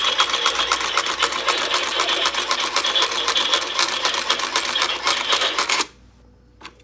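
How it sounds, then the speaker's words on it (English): A haunted typewriter Halloween animated prop clacks loudly with rapid, steady mechanical keystrokes and carriage noise for about six seconds, then cuts off abruptly into near silence. "I love the typewriter sound."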